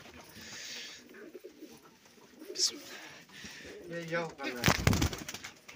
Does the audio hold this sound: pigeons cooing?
yes